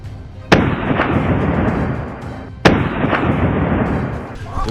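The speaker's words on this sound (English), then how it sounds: "I raised my gun and pulled the trigger. Boom!" Two loud, sharp hunting-gun shots go off at a wild boar about two seconds apart, each followed by a long rolling echo in open country.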